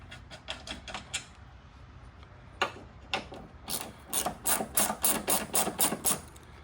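Fast clicking of a ratchet wrench loosening the top strut mount bolts on a 2007–2011 Toyota Camry, quick runs of sharp ticks, a short pause, then a longer louder series, close and with no voices.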